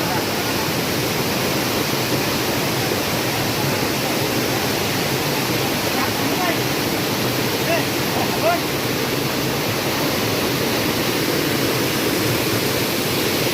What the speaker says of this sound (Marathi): पाण्याचा पण खूप आवाज येतोय